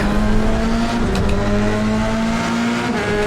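Formula 3 race cars howl around the Hungaroring in iRacing, a loud, steady near engine drone with shifting pitch and brief tire noise.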